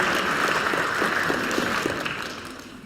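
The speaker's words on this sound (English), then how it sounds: "she can get a round of applause and come up here" An audience applauds a child volunteer at an eagle presentation with a steady round of clapping that tapers slightly toward the end.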